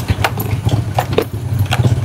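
A new V8-engined motorbike idles close by, a steady low throbbing rumble with an even pulsing beat and no voices over it.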